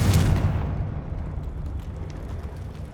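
A Confringo fire spell from Hogwarts Legacy bursts in a loud, deep explosion right up front, then trails off into a long, rumbling decay.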